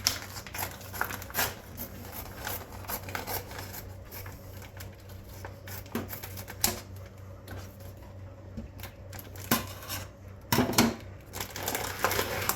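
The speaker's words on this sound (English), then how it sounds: "cut whatever the hell you're using for a container of chicken open" Scissors snip and crinkle through plastic chicken packaging in a kitchen, giving irregular sharp clicks and crackling rustles, close by, with a few louder crunches toward the end and no talking.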